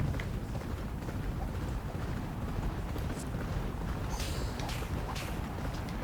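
Racehorse hooves gallop in the Champion Jockey racing video game, a dense, continuous drumming rumble with wind-like noise and crowd or race ambience, loud and unbroken throughout.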